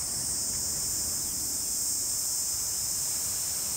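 A loud, constant high-pitched buzzing drone of cicadas near a beach on Eleuthera fills the air without pause, over a soft background hiss.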